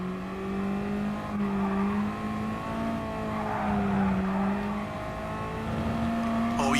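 Gran Turismo racing game: a car engine holds a buzzing tone that swells and dips as the car loses traction, with brief tire squeal over the steady drone.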